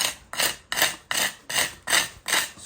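A hand tool rhythmically scrapes back lime mortar joints on a brick fireplace, seven even rasping strokes close to the microphone with no talking.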